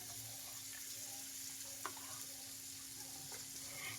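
Finely chopped onion sautés in butter in a pan, giving a quiet, steady sizzle with a few soft stirring clicks and scrapes, heard close and alone without speech.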